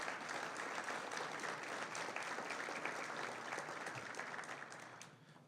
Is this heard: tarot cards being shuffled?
no